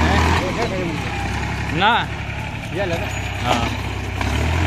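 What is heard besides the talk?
second mini tractor engine running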